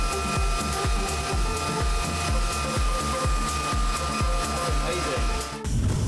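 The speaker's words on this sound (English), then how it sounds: "carry the sanding dust itself away by the Cobra vacuum" Floor sander running with an Oneida Cobra dust vacuum attached, a loud steady motor whine with rapid rhythmic thumping pulses throughout, cutting off abruptly near the end.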